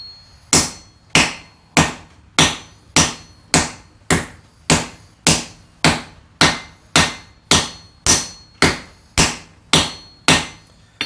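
Hammer forging a metal workpiece: about twenty sharp, ringing blows at a steady, even pace of roughly two per second, close and loud, each decaying quickly before the next.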